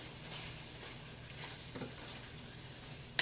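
Flour being stirred into a sizzling pot for curry chicken potpie, a soft continuous frying hiss with light scraping from the stirring, close and fairly quiet, no talk.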